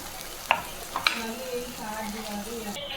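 Prawns frying in a pan for prawn egg curry, a steady soft sizzle with a few sharp clinks of a utensil against the pan early on.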